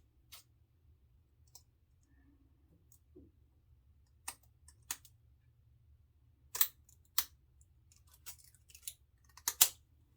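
Scissors cut a Schick L type injector razor blade in a quiet room, giving a handful of sharp, separate snips and clicks spread unevenly, each loud and close.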